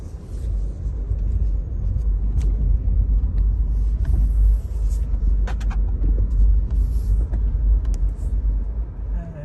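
A car drives along a street in Dededo, Guam, after Typhoon Mawar, with a loud, steady low rumble of engine and road noise throughout, close by, with no talk.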